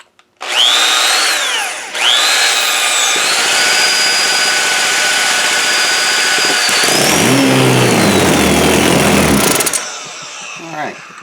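A vintage British Gannet four-stroke model boat engine starts with a couple of short bursts, then runs loudly and steadily with a high whining tone, its pitch dipping and rising as the throttle changes before it cuts out.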